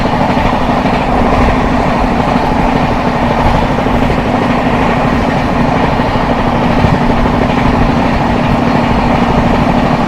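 Onboard passenger train 12791 from Secunderabad to Danapur, running after leaving Pandit Deen Dayal Upadhyaya Junction, with a loud, steady rumble and low hum of wheels and carriages that continues unbroken throughout.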